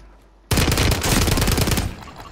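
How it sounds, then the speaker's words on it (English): Call of Duty machine-gun fire kicks in abruptly after a quiet moment, a loud, fast run of shots rattling for well over a second before trailing off into echoing tails. "Shoot this motherfucker right here"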